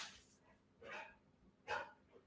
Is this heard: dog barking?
yes